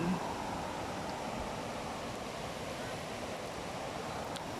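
Water from a small waterfall on a forest stream in Ratchaburi, Thailand, flows over rocks in a steady, broadband rushing wash, close and unbroken, with no talk.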